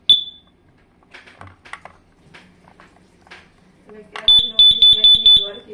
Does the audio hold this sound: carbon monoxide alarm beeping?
yes